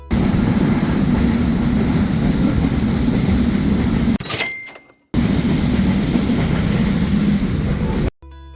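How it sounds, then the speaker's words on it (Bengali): A loud, steady rumble of a crowded Eid-season passenger train to Naogaon speeding along the rails, cutting out briefly midway and again near the end. "আমাদের ট্রেনটি রকেটের গতিতে ছুটে চলেছে"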